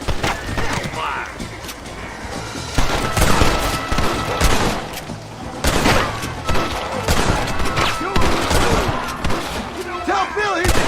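Gunfire in a Red Dead Redemption shootout: rapid, overlapping shots crack loud and near in dense volleys, while voices shout over the fighting.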